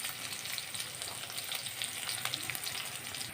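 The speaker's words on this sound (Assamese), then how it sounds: "মাছ ফ্ৰাই কৰা কেৰাহীখনতে মই আকৌ সেইখিনি তেলতে এইখিনি পিঁয়াজ দিলোঁ, এটা কেঁচা জলকীয়া দিছোঁ" Onions and a green chilli frying in leftover fish-frying oil in a wok, a dense, close, continuous sizzle and crackle with no talk.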